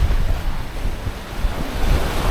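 Strong wind buffets the microphone while surf breaks and washes steadily on a beach, a continuous loud roar with no voices.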